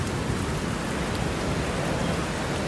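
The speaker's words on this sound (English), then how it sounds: "It's horrible rain out there at the moment." Heavy rain pours down outside in a dense, constant hiss that stays loud and even throughout, with no voices or other sounds.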